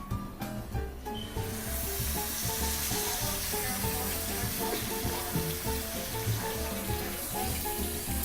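Meat for a Mexican surf and turf dish hits a hot pan, bursting into a loud, continuous sizzle that spreads into steady frying hiss after a brief clatter at the start.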